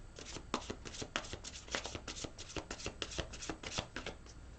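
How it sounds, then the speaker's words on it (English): Tarot deck shuffled by hand during a reading, a rapid run of crisp riffling slaps and flutters in quick bursts, close and clear, with no talking. "One more shuffle."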